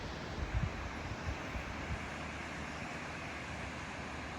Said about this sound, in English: As you can see, the waterfall.